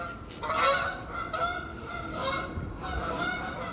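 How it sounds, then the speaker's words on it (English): Geese honk repeatedly in a loose rhythm, several calls overlapping at moderate distance over a low rumble of wind. "Do you hear those geese?"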